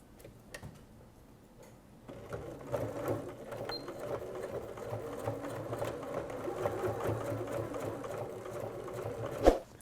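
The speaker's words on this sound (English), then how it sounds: "that's how I'm going to stitch across and create the box corner" A Janome sewing machine stitches across the box corner of a tote bag. Quiet ticking comes first, then a steady fast mechanical whir and clatter runs for several seconds, ending with a brief louder knock.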